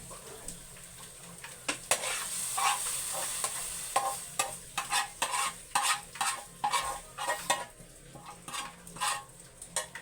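Corned beef and eggs sizzle in a frying pan as a utensil stirs and scrapes in repeated bursts over a steady hiss, fairly close and with no talk.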